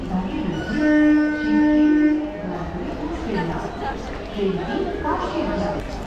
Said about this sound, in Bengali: এই হচ্ছে ব্যান্ডেল লোকাল, ব্যান্ডেল স্টেশন দেখুন।